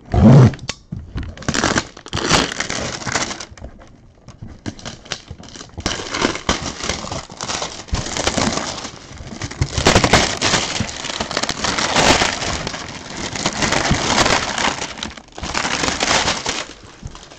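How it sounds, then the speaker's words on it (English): Cellophane wrap being cut and torn off the top of a sealed case of football trading cards, a long run of loud crinkling, ripping and crunching bursts in an irregular rhythm, close up with no talking. "There is your seal underneath this cellophane, and I'm going to cut this off from the top"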